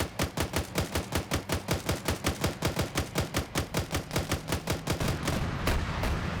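Rapid rhythmic gunfire from a tank battle in a PvP war game, with about twenty-five evenly spaced loud, close bursts over five seconds before fading into rumbling background noise.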